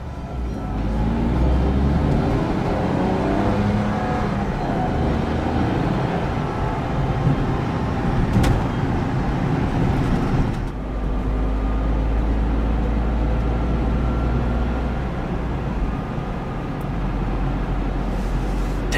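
Engine and road drone from inside a 2009 Smart Fortwo Passion Coupe as it accelerates. The steady, moderately loud hum surges, drops briefly midway as if changing gear, then pulls on again.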